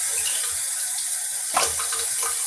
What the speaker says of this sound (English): let's get a good rinse